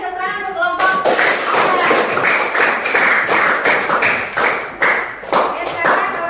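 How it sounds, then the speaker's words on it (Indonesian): A classroom of students applauds a group: sustained, dense clapping from many hands starts abruptly and carries steadily for several seconds, close and loud, with a few brief dips. "Ya, kasih tepuk tangan untuk kelompok"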